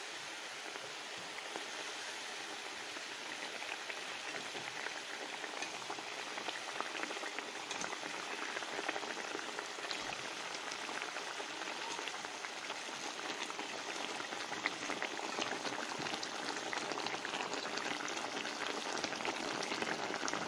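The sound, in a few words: tomato sauce simmering in a covered pan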